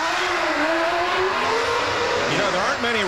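A Williams Formula 1 car pulling away from the pits after a nose change, its high engine whine climbing in pitch, loud and close, with a voice talking over it.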